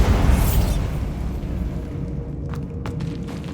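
A spell-cast explosion in a wizarding video game bursts loudly at the start with a heavy low boom, then fades into a rumbling decay, with a few faint clicks near the end.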